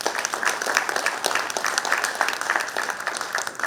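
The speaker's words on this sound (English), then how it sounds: "Can we have a huge round of applause for her?" An audience applauds a guest at a fireside chat, sustained crowd clapping that fills the room at steady strength, with no voices over it.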